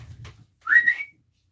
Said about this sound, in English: I rarely have to whistle.